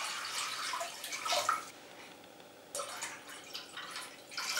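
Water, about one and a half liters, pours steadily into a cooking pan for an Indonesian beef bakso broth. It is a broad splashing rush that eases briefly midway, then picks up again.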